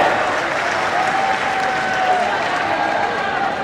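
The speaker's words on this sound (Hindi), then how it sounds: "हमारे सभी लाभार्थियों के लिए जोरदार तालियों के साथ स्वागत" Steady, loud applause from an audience welcoming beneficiaries at a Hindi-language government award ceremony, sustained dense clapping throughout with a faint tonal whistle or feedback line running beneath it.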